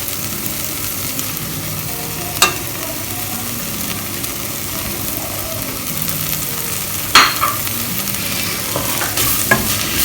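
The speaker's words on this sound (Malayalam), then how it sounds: "നന്നായി ഇളക്കി യോജിപ്പിക്കാം." Squid masala roast being stirred in a frying pan, continuous close sizzling with a spatula scraping and clanking against the pan now and then, no talking.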